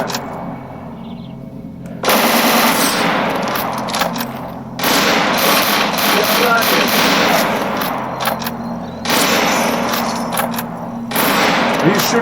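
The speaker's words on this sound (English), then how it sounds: "Are you shooting me through the wall?" Gunfire in S.T.A.L.K.E.R. Anomaly, heard as if through a wall, rattles in long loud automatic bursts with brief pauses between them.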